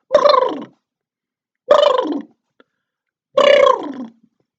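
A voice imitates a turkey's gobble three times, each warbling burst about half a second long, separated by silence.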